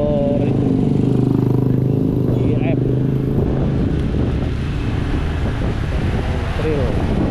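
A motorbike ridden along streets in Canggu, Bali, gives a loud, steady engine drone with heavy wind buffeting the microphone, while people talk over it.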